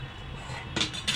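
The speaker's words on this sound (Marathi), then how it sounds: "झाकण ठेवत आहे" A lid set onto a cooking pot of simmering suran (elephant foot yam) vegetable with kokum, giving two short metallic clanks near the end against a low kitchen rumble.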